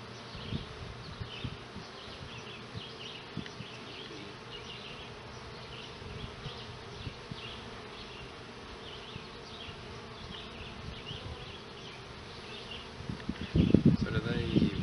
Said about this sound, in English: Here's a bee trying to get out.